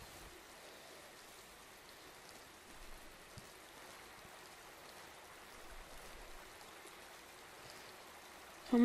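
Steady rain in the jungle of the video game Metal Gear Solid 3 patters in a soft continuous hiss, faint and even, with a few brief louder bumps and no voices.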